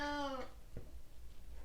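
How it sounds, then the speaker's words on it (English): A single clear, close cat meow, rising then falling, followed by faint soft noises in a quiet indoor room. "Oh, that's my cat."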